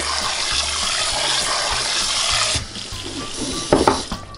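Water sprinkled from a sprinkler over pulled duck meat to mix it in, a steady close hiss of spraying water for a couple of seconds, then quieter wet handling sounds with a few brief splashes.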